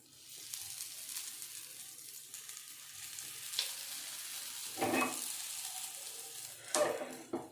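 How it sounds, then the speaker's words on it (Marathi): Aluvadi, rolled colocasia leaf slices, shallow-fry in a little oil with a steady, close sizzle that swells into louder bursts of spitting now and then. Nobody speaks. "आणि या साईडने थोडंसं फ्राय करून घेते मी"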